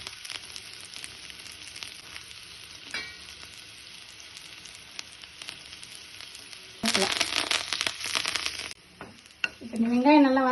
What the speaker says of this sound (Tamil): பேனில் வெங்காயம் போட்டு வதக்குறேன்